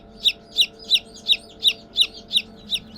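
Young chicks peep while being gently held in a poultry breeder's hands, giving about nine evenly spaced, high, clear cheeps in a steady rhythm, close and alone.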